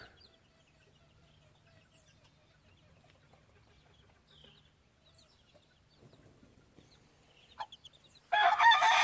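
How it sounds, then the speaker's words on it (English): Quiet clucking and faint chicken calls build toward a crowing blue gamefowl rooster, then a sudden loud burst of broadband noise at the end. "I got a couple more of the old blue roosters"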